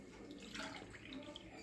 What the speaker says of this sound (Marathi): ग्लास उदक घाल्लां